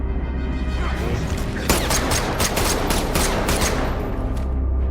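Rapid bursts of gunfire crackle through an action scene in Extraction II, starting after a rumbling lead-in and continuing as dense, loud volleys.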